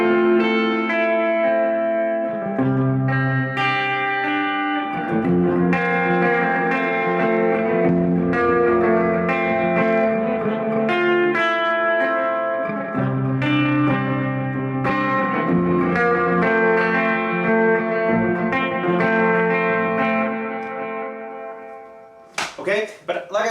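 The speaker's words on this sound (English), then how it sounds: "Turn the reverb on." Electric guitar played through a Boss RE-202 Space Echo delay pedal with the reverb switched on, sustained ambient chords and lead notes washing into long repeating echoes, loud and continuous, ending with a few abrupt clicks.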